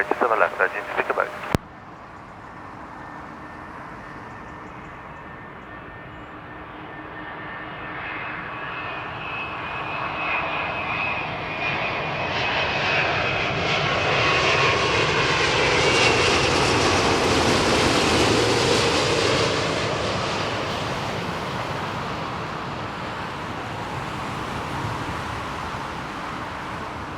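A Virgin airliner lands on runway 27 left at Heathrow, its loud jet roar swelling steadily to a peak and then easing off, after a short burst of radio chatter at the start.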